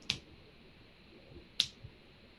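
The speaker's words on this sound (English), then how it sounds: "when I snap my fingers" Two crisp finger snaps about one and a half seconds apart, each a sharp bright click standing alone over a quiet classroom room tone.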